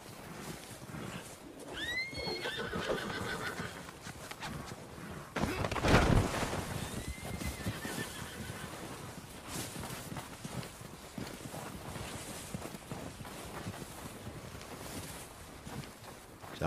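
A horse in the Red Dead Redemption 2 video game whinnies once and then trots in with steady clip-clop hooves, set against outdoor wind and ambient sound, with no talking.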